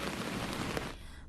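Rain mixed with hail pelting down, a dense, steady hiss of drops on surfaces, close and loud, cutting off abruptly near the end.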